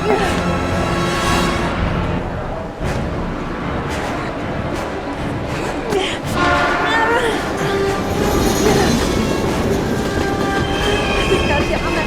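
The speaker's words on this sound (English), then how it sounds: "We've got to get on that train, Ethan. It's our only chance." A train rolls along in the video game Heavy Rain, giving a loud, continuous rumble with metallic clatter and squealing wheels throughout and a few sharp knocks, heard close.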